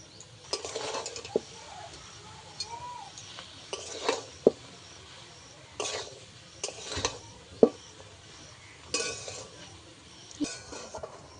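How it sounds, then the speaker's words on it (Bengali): Spices being stirred into a pot of vegetarian ghugni with peas and potatoes, giving scattered clinks and scraping knocks of a utensil against metal, moderately close and uneven in rhythm, with no talk. "ভালো করে নেড়ে চেড়ে মশলা মিশিয়ে নেব।"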